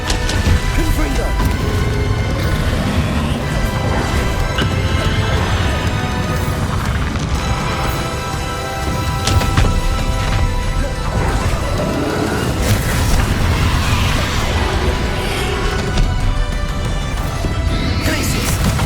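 Fiery Confringo blasting spells exploding during a boss duel in Hogwarts Legacy, a dense, loud, continuous barrage of crashes and booms layered with game music and effects, with occasional voices.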